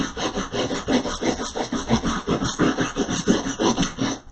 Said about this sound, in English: And now I'm just going to scrub.